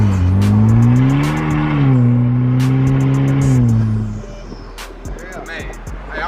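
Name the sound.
2021 Vanderhall turbo engine revving while driving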